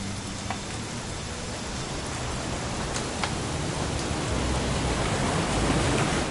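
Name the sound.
rain in a video game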